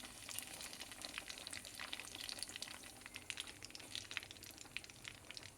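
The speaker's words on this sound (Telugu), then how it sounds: "కంపల్సరీ డీప్ ఫ్రై చేయాల్సిందే" Pieces of finger fish deep fry in hot oil, giving a faint, steady crackling sizzle that continues evenly throughout with no voices.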